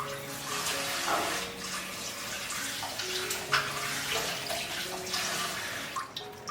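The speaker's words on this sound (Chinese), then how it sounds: "再用清水多冲洗2遍" Shiitake mushrooms are rinsed under running tap water, a steady, fairly soft stream with intermittent splashes and sloshing as they are handled.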